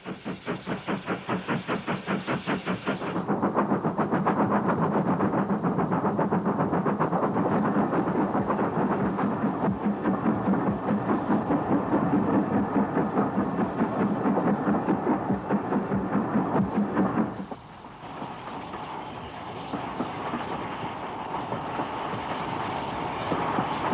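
A branch-line auto train, the engine pushing or pulling its carriages, rumbles along continuously with rhythmic clattering and hiss, the sound shifting partway through as it rolls steadily onward.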